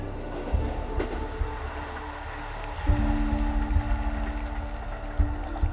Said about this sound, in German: Unterwegs sind die Triebwagen auf einer Spurweite von 1067 mm, der sogenannten Kappspur.